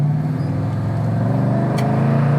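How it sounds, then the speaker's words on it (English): A 1967 Pontiac GTO with a manual shifter pulls hard through first and second gear, its steady loud engine drone holding close and continuous with no voices. "There's first, second, nice smooth shift."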